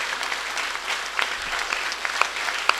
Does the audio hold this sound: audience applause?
yes